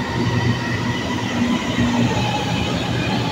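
A train runs at a station in Malaysia, a steady loud rumble of wheels and rail noise with faint tonal hums, heard up close and without voices.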